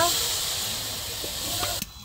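Green chilies frying in a cleaned karahi for a village-style eggplant and taki fish mash, a steady bright hiss that cuts off abruptly near the end, with a voice talking softly underneath.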